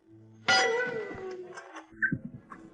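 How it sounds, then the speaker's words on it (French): A metallic bell, rung by a medieval gravedigger, gives one loud ringing clang that decays over about a second, followed by a few faint clinks. "Le fossoyeur sonnait une cloche pour annoncer son arrivée"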